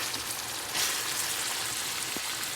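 Rohu fish roe fries in a pan while being gently stirred, producing a dense, continuous hissing sizzle at close range with a faint scrape or two and no voices.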